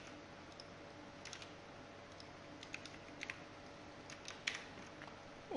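Soft, sparse keystrokes on a computer keyboard as code is typed during a Selenium browser-driver setup, the faint clicks arriving in short irregular bursts over a quiet room hum, with no voice.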